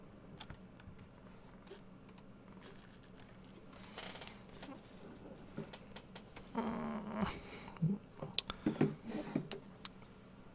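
A cat is heard close by, with low purring and growl-like rumbles mixed with rustling, alongside steady computer keyboard typing.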